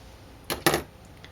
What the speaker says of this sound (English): Cut another triangle.